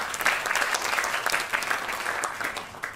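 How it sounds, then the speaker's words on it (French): Sustained applause from an audience at a round-table discussion on apprenticeship, a dense, steady wash of clapping hands that fills the whole stretch without speech. "Merci d'applaudir encore une fois."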